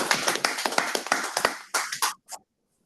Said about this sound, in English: let's jam our hands together with a round of applause